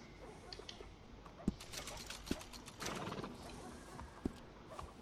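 In the stable of the Red Dead Redemption 2 video game, a well-groomed horse gives quiet hoof thuds and a short snorting neigh, the sounds soft and scattered against low background noise.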